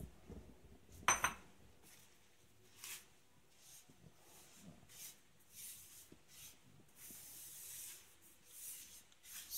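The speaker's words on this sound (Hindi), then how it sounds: "डालेंगे हम और सूजी डालेंगे और बिल्कुल लो फ्लेम पर इसको भूनेंगे" Semolina roasting in a pan over a low flame while a spoon scrapes and stirs it: soft, intermittent rubbing and scraping with a few small clinks in a quiet room.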